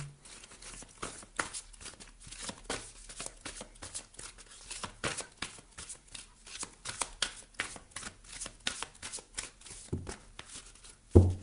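Tarot cards are shuffled by hand in a continuous series of soft, rapid riffling and slapping bursts close by, with a louder knock at the very end.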